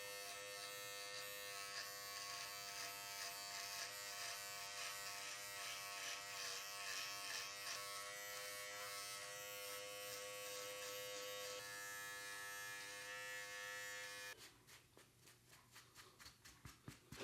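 Electric beard trimmer cutting neckline hair, a close steady buzzing hum that runs continuously, then changes near the end to a rougher, pulsing buzz as it moves through the hair.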